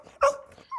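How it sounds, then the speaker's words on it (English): A spaniel whimpers from under an oak dining table, a short high whine followed by a fainter second yelp, close and clear with no talk. "Sheila, their spaniel, whimpers from beneath the oak dining table"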